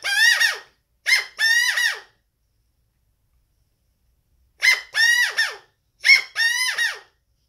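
A Jim Matthews hand call mimics a Valley quail, giving short, bright chirping phrases of two or three notes in two bursts separated by a long silent pause, close and fairly soft, alone without talk.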